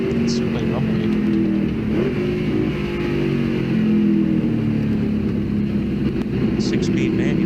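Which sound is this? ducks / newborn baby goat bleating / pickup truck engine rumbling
pickup truck engine rumbling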